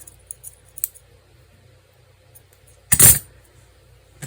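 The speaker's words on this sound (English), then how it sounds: "my scissors are in bad need of a good sharpening" One short, sharp snip of dull scissors cutting, heard close and alone, with a few faint clicks and taps around it in an otherwise quiet room.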